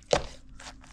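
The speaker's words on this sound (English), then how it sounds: "don't need to pound it very hard. Just do like this." A pestle pounds green papaya salad with peanuts and fish sauce in a mortar: two soft, muffled thuds about half a second apart, close by.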